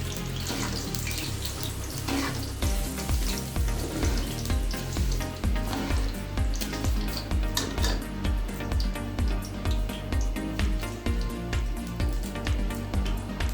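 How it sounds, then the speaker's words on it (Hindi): A cup of sugar is added to oil in a kadhai for traditional Bannu halwa. A continuous close sizzling hiss runs throughout, mixed with prominent rhythmic background music. "कढ़ाई में हस्बे ज़रूरत ऑयल शामिल करके ना फौरी वो जो 1 प्याली चीनी थी वो शामिल कर दी हमने।"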